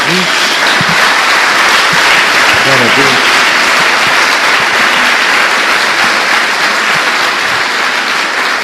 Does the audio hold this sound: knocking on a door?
no